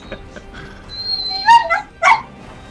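A puppy in a room gives short yips and whimpers, with two louder high-pitched cries close together near the end after softer whines.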